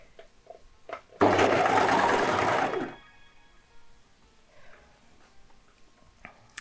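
A sewing machine runs in a single burst of about a second and a half, stitching across a garment's side seam, with quiet room sound before and after.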